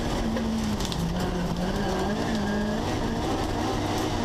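Rallycross race cars at the 2013 Ripla Retro Rallycross Challenge skid across a bumpy, dusty circuit, with loud continuous engine roar and tire scrabbling mixed with crowd noise.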